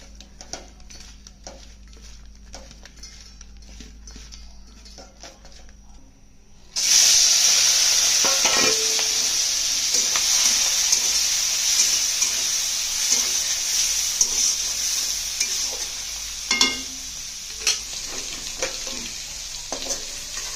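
Oil bursts into a loud, steady sizzle as shrimp hit the hot pan, crackling and popping continuously after a few seconds of quiet.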